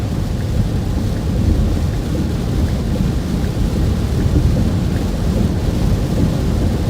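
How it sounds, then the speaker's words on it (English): An Illinois thunderstorm with rain, a steady loud wash of downpour and low rumbling thunder, mixed with gusty wind buffeting close to the microphone. "Rain is starting to calm down finally."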